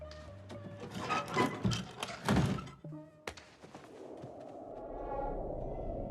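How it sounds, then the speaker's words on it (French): Rustling and shuffling movement, then a single solid thunk of a door shutting nearby, followed by a low steady hum. "Ferme la porte."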